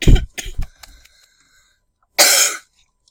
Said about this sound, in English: Oh, I'm so sorry about my cough and all that.